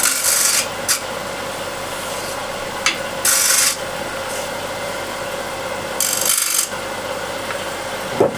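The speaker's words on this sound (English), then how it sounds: "I'll use the spindle gouge just to shear scrape, get this a little bit more rounded" A spindle gouge shear-scrapes the rim of a wooden bowl spinning on a lathe, giving short, rasping bursts of cutting noise that come and go over a steady low machine hum.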